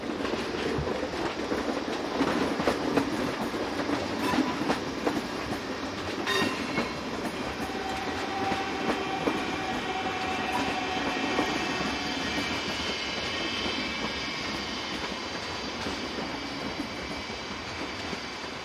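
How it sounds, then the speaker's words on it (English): Class 425 and 426 electric multiple units coupled together arrive with a local train from Trier, a continuous mid-level rolling roar with clickety-clack wheel beats and a brief tonal whine midway. "This combination is seen arriving with a local service from Trier"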